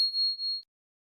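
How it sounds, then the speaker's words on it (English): A single bright notification-bell ding rings out alone, clean and close, sustaining for about half a second before cutting off into silence. "remember to hit the notification bell to be notified on future uploads"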